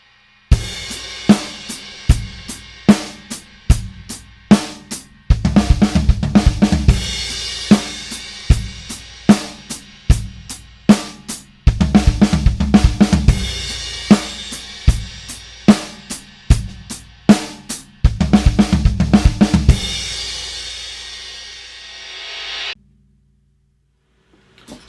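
A drum kit plays a groove broken up by 16th-note triplet fills on the snare and floor tom. Crisp hits form a steady rhythm with denser bursts of fills, and cymbals ring out at the end before silence.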